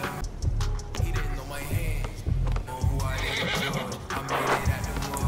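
A horse whinnies loudly in NBA 2K22 on PS4 during a 3-on-3 game on a cruise ship, with clip-clop hoof beats mixed in among game crowd noise and other game sounds.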